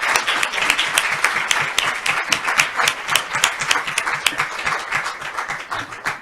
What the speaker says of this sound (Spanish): le vamos a dar a Julia otro aplauso